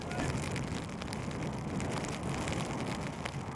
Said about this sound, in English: As a soft, refreshing rain sweeps across the pitch.